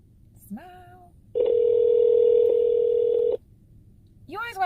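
A phone dial tone sounds as one steady, clean tone lasting about two seconds, set between short bursts of a person talking.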